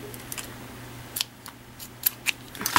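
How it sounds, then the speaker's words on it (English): Scissors snip through two macrame cords on a button bracelet, giving a few sharp, quiet clicks spread over a soft, steady background. "I'm going to cut my 2 cords here"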